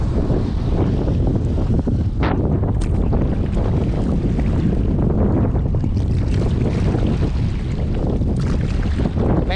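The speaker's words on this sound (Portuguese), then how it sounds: "As ondas tá muito braba hoje" A small fishing boat pitches on rough ocean waves while strong wind buffets the microphone, making a continuous loud roar of water and gusts with no break.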